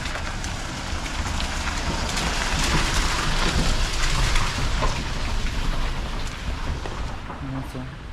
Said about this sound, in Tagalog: Umuulan ngayon kasi may bagyo daw.